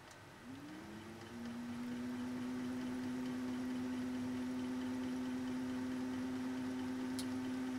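A 201-2 motor runs with its clutch engaged: a quiet hum rises in pitch over the first second, then settles into a steady, even whine that holds to the end.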